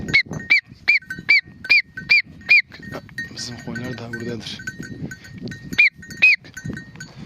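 A flock of sheep on a Turkish farm on a cool day with rain coming, with repeated bright, ringing bell-like tones in a steady rhythm over low bleats and rustling, and a voice partly heard underneath.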